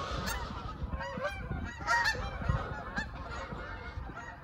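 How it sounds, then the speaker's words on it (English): Several geese honk repeatedly in a noisy outdoor setting at an abandoned lot in Beattystown, New Jersey, their calls overlapping and moderately close. "sounds like geese."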